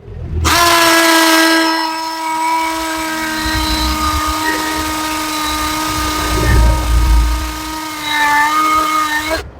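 A new brushless drill called Tanso runs steadily at high speed with a strong whine holding a constant pitch for about nine seconds, close and loud, with slight wavering near the end.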